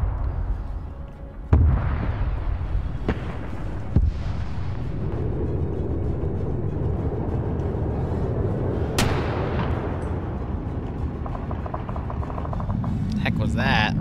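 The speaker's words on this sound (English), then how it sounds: "Heck was that? Rocket? Yeah, rocket." A rocket explosion booms in a WWII German armor video game, set against a steady rumbling battle din with sharp cracks and a loud blast near the middle, while voices talk over it.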